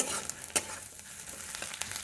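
Onions frying in a pan, a soft continuous sizzle with a few sharp stirring clinks and scrapes close by, quiet and without talk.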